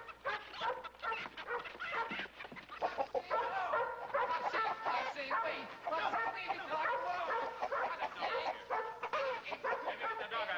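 Busy barnyard clamor with dogs barking and chickens clucking over one another, fairly close and continuous, with some voices mixed in.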